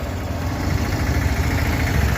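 A motorbike stuck in a pit on rough ground keeps its engine running in a steady, close, low idling rumble with no break for the whole stretch.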